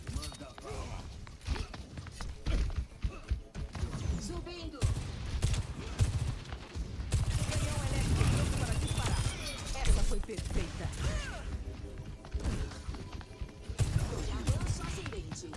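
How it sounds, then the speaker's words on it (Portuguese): Rapid bursts of gunfire from the video game Overwatch 2 fill the scene, layered with game music, footsteps and other effects at steady moderate loudness, with voices talking over the action. "Começa a atirar assim, velho."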